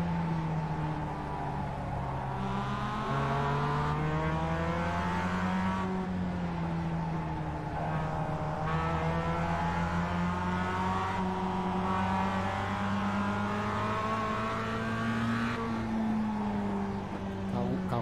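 A race car engine in the sim racing game iRacing drones steadily throughout, its pitch rising and falling with shifting and corners, loud and continuous with no talk over it.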